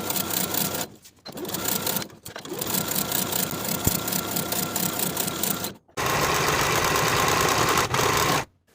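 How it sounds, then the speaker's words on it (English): A sewing machine runs loud and close, stitching the inseam of a pant leg in long steady bursts. It stops briefly several times, then restarts. "Sew the inseam from top to bottom with a 1/2 inch seam allowance"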